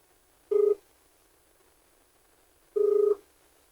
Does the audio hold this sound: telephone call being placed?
yes